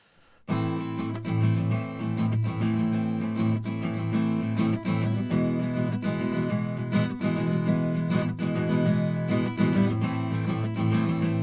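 Acoustic guitar strummed steadily with the microphone pulled back but still aimed at the sound hole, a bit distant and roomy, with a full continuous chordal sound.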